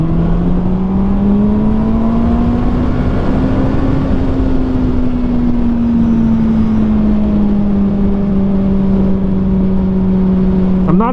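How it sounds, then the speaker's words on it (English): A 2011 Honda CBR600RR sport motorcycle is ridden on a wet road. Its engine holds a loud, continuous drone that rises and falls in pitch, with wind noise throughout and no voices. "It's like a bicycle with an engine and a lot of sound."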